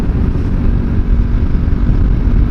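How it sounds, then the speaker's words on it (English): A motorcycle engine pulls hard at high revs, a dense, steady low-frequency roar close to the rider with constant loudness throughout and no talk over it. "As soon as you get to 5 or 6, it just has such a oomph"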